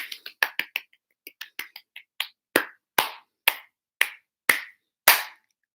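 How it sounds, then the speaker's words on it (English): Children clap for a round of applause: a run of sharp, separate hand claps, first quick and uneven, then settling into a slower, steady beat of loud single claps. "give yourself a round of applause"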